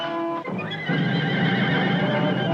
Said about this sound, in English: We'll hold the horses still.